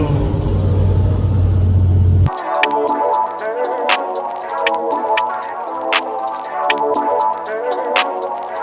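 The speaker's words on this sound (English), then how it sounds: "Cars on racetracks." Race cars lap the Laguna Seca racetrack, with engines roaring past in a steady loud rumble and repeated sharp revving passes. A brief heavy low drone comes first.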